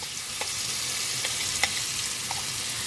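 Green banana goes into hot oil already seasoned with salt, turmeric and reddened chillies, and it fries with a loud, continuous sizzle. A few faint clicks of stirring sound close by.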